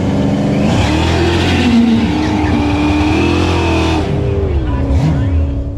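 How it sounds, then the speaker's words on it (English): A Ford LTD wagon's engine roars and revs at a drag race start line, loud and continuous with rising and falling pitch, mixed with other crowd and track noise. "we're lining up with the Ford LTD wagon"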